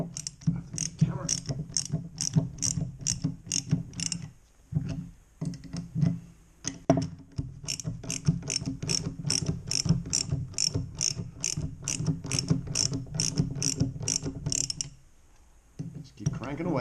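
Someone cranks a bearing puller by hand to pull the crank bearing off a Stihl BR600 4-mix leaf blower, giving steady rapid ratcheting clicks up close over a low mechanical hum, with a couple of brief pauses.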